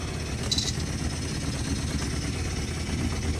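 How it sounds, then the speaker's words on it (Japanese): A Suzuki moped engine idles steadily with a low, even rumble after starting, its air cleaner box removed, running without a break the whole time. "でもエンジンかかりました。 はい、安定しました。"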